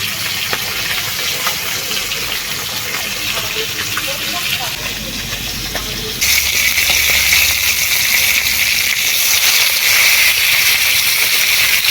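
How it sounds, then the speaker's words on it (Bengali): Fish frying in oil during village-style cooking makes a continuous broadband hiss and crackle that grows noticeably louder and brighter partway through, heard up close. "মাছগুলো সব ভাজা হয়ে গেছে"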